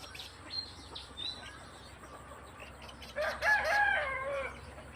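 Chickens cluck faintly around a backyard, then a rooster lets out one loud, drawn-out crow close by near the end.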